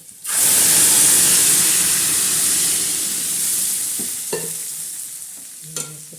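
Mung dal is poured into a hot garlic tempering and sets off a loud burst of sizzle and steam that gradually settles, followed by a few clanks of a utensil.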